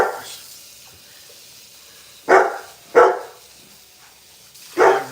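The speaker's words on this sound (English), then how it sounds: "they kind of bark a lot, but I feel like they bark more when I'm on live" Dogs bark in a home kitchen, three sharp, loud, close barks spaced a second or so apart, then another after a pause, with quiet room noise between and no talking.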